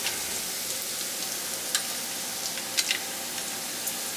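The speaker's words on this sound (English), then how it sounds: "the pork is burning. Hold this, I'll stir it." Pork frying in a pan while being stirred, a steady close sizzle with a few brief scraping clicks from the stirring.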